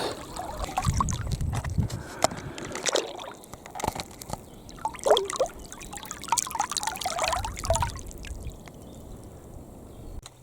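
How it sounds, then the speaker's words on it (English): A strong river flows in a forest, its water trickling and sloshing up close with irregular splashes and surges, joined by occasional handling noises. "The river is pretty strong."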